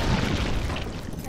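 Frag grenade blast in an Apex Legends duos match: a loud, close, rumbling boom that fills the moment with broad low-end noise and fades slowly.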